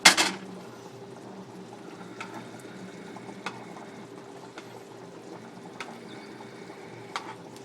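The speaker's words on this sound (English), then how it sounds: "Gonna give that a saute." Chicken pan juices for chicken piccata bubble quietly in a pan, a low, steady simmer broken by a loud clatter at the start and a few faint, scattered clicks of cookware.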